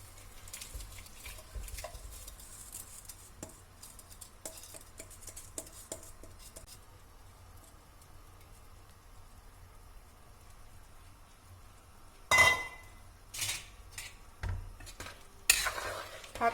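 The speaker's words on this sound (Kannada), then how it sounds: "ಇವಾಗ ನಾವು ನೆನೆಸಿಟ್ಟಿರೋ ಅಕ್ಕಿನ ಹಾಕೋಣ." Soaked rice goes into a pot for mushroom pulao and is stirred, giving soft scraping and a faint sizzle, with sharper metallic clinks and louder scrapes near the end.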